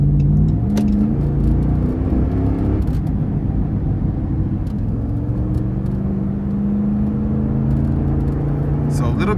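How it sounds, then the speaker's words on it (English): A 2009 Dodge Ram TRX Quad Cab with the 5.7 V8 and about 220,000 miles pulls under throttle from inside the cab, its engine drone rising and holding steady over constant road rumble. "Gonna give it some throttle here."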